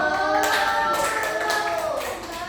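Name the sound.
classroom clapping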